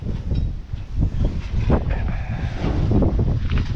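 Strong wind roars and buffets the microphone in a continuous loud rush, low and gusty throughout.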